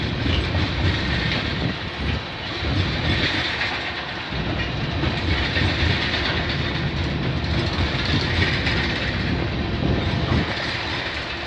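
Freight train cars carrying potash roll past close by in the Greater Toronto Area with a continuous loud rumble and rhythmic clickety-clack of wheels over rail joints.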